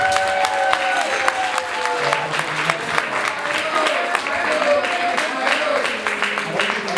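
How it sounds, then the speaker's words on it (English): Guests at Ayo's surprise 21st birthday party give a warm, sustained round of applause that fills the room. Scattered voices and cheers mix into the dense clapping. "can everyone just give her a big round of applause"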